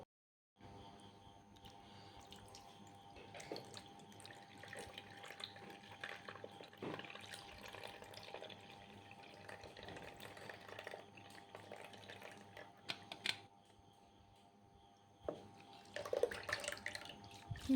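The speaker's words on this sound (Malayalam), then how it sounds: "ഇതുപോലെ വെള്ളം ഫുള്ള് നമ്മൾ ഇങ്ങനെ ഊറ്റി എടുക്കണം." Water drains and trickles from cooked sago and pineapple through a strainer for a Kerala payasam, a soft continuous pour with faint drips, fairly quiet and without speech.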